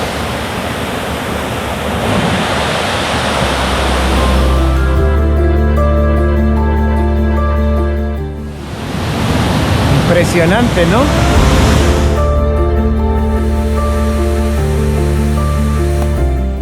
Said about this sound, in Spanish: El Salto La Llovizna es una cascada situada en el río Caroní, cerca de su confluencia con el río Orinoco